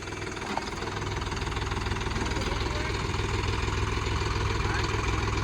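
A tractor engine runs steadily during field testing of a new plough, a continuous low, chugging rumble that holds at a constant level nearby, with occasional voices in the background.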